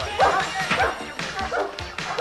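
On a film set, a dog gives several short barks and yips spaced through the moment, close and fairly loud, with other sounds and voices in the background.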